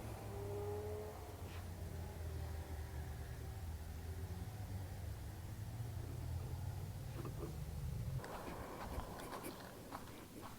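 Motorbikes climb a hill near Ribblehead Viaduct in the Yorkshire Dales, a droning engine hum that holds low and steady, then gives way to rougher, gusty outdoor noise with scattered knocks, fairly faint and distant.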